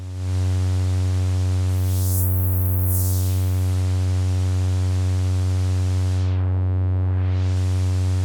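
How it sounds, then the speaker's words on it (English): A steady buzzing synth tone carries filtered noise that sweeps up into a bright hiss, then later dips down and back, loud and continuous throughout. "To really get some noise, there is the last effect, filtered noise."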